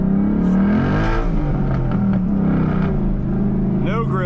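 A 2012 Mustang Boss 302 with sidepipes and an SLP Loudmouth axleback exhaust roars loudly as its tires spin, a sustained, rising engine drone up close, with a voice speaking near the end.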